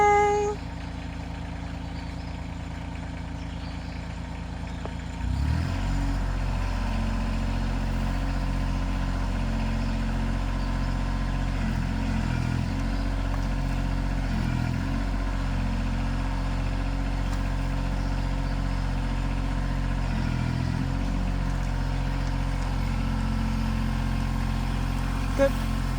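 Tractor engine starting up and then running steadily while lifting, a close medium-pitched diesel drone with slight periodic dips in load, and voices talking at times.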